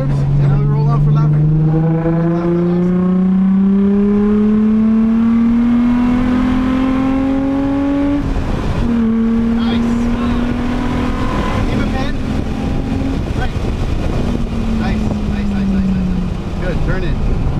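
Race car engine revving up through the gears on a track, a loud, close, continuous climbing whine that drops at each shift and builds again, with voices talking over it.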